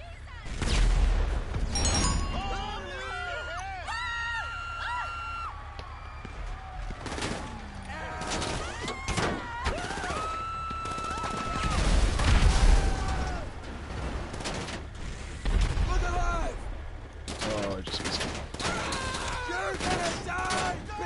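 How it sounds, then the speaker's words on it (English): Scattered gunshots and rapid fusillades in GTA Online crack and boom over a steady rumble, some near and loud, others distant, while players talk throughout. "Oh, they are just shooting at me."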